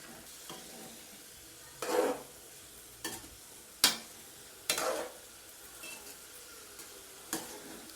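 Boiled chickpeas frying with spices in a pan for halwa puri chana: a quiet sizzle broken by several separate bursts of scraping and stirring, each a second or shorter, at irregular intervals, with no speech.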